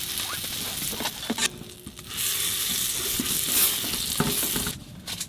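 Butter with minced garlic sizzles in a pan at a camp on a frozen lake, a close, steady hiss broken by brief scraping stirs and small clicks.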